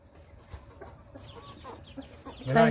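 Chickens cluck close by, in short scattered calls that build to a louder burst of squawking at the end, with faint background noise.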